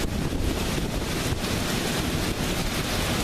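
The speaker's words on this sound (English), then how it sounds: "Now the wind is blowing," Wind blowing hard outdoors, a loud continuous broadband rush buffeting the microphone throughout, with no voices.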